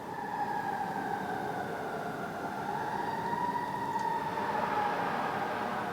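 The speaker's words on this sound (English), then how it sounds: "There are so many sirens all the time." A distant wailing siren rises and falls faintly over a steady background rumble of traffic, with a hint of a second tone near the end.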